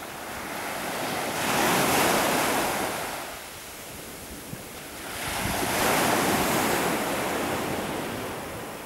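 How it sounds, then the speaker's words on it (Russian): Large ocean waves roll onto a yellow coarse-sand beach at Mae Nam on Samui in strong wind, two broad surges of surf swelling and fading over steady microphone wind roar, with no voices. "Ветер, большие волны."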